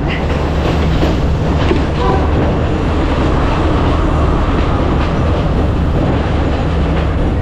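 A village passenger train rolls along on its rails with a loud, steady rumble and faint clickety-clack from inside the carriage, continuous throughout, with no voices.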